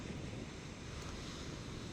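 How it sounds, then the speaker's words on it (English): Ocean waves roll steadily onto a shore on an overcast day, a continuous wash of surf mixed with wind noise on the microphone, with no voices. "the waves were just rolling in"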